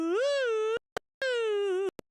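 A person makes a silly vocal warm-up noise at dawn before metal vocal practice: two sustained, whiny, nasal tones, each ending in a sharp click or pop, with no other sound around them.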